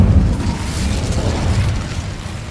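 The Incendio fire spell from Hogwarts Legacy goes off as a loud, deep, rumbling burst of flame that roars steadily for a couple of seconds, with no voices.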